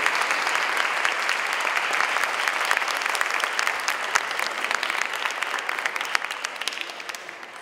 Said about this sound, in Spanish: recibamos con un aplauso a nuestro autor, Javier Darío Restrepo